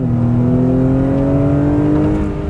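A 2021 Acura TLX A-Spec's 2-liter turbo four-cylinder accelerates hard from a dead stop toward nearly 7,000 RPM, with a loud, close engine note that climbs steadily in pitch and holds alone throughout.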